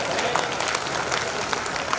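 An audience at a poetry recital, a mushaira and kavi sammelan in Wardha, claps loudly and steadily, a dense close wash of applause with no break from start to end.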